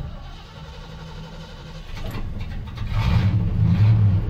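A carbureted car engine cranks and catches, then settles into a running idle that grows louder and steadier, running slightly rich after cranking without ignition.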